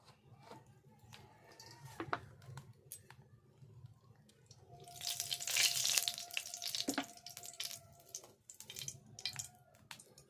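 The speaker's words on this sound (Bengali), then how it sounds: "এবার কড়াইতে আমি সাদা তেল দিয়ে দেব।" White cooking oil poured into a hot wok sets off a hissing sizzle that swells to a loud peak midway and then eases, over a steady low kitchen hum.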